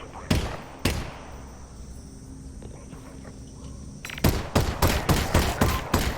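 Video game gunfire in the Campaign+ mod: two loud isolated shots, a pause, then a rapid burst of close repeated shots over a faint background hum.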